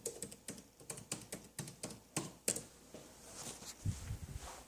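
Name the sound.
typing a password on a computer keyboard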